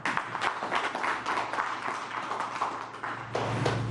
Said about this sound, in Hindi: तो मैं सबसे निवेदन करूंगा कि आपके लिए तालियां हो जाए